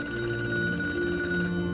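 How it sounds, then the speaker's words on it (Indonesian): A telephone rings in a hotel room in a film scene, a steady loud electronic ring lasting the whole moment and cutting off near the end, with no voices. "tiba-tiba telepon di kamar itu berbunyi"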